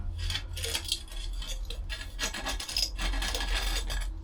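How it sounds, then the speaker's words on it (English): Close scraping and rubbing as a trowel edge presses compost down around a barrel cactus root ball in a pot, gritty and irregular, fairly quiet with no voices. "just push this compost down a little bit tighter with the edge of the trowel"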